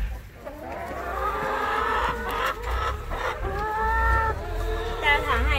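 Chickens kept as laying hens cluck and squawk steadily at feeding time as a mixed feed ration is poured into their trough, with several birds calling close by and a low rumble underneath.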